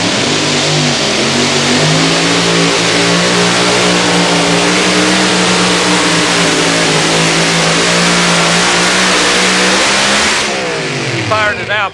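Engine of a 1941 Willys 2WD pulling truck, firefighter-driven and sponsored by VP Racing Fuel, roaring at full throttle in a tractor pull, a loud sustained high-rev howl that holds steady for about ten seconds then drops off near the end, with an announcer talking.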